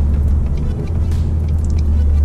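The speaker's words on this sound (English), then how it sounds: "so let me go down a couple gears." Ford Mustang S550 engine rumbling steadily from inside the cabin while slowing to a stop and downshifting with paddle shifters; a loud continuous low drone with no clear individual shift blips.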